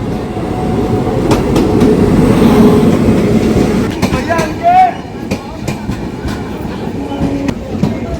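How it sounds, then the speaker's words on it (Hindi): A train pulls into a railway station in India, a loud rolling rumble with rail clatter that eases off as it slows, joined by squeals and scattered clanks. "Finally train is here."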